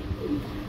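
A brief, low coo rises from Stellar bloodline pigeons imported from the Netherlands, soft and near, with no voices present.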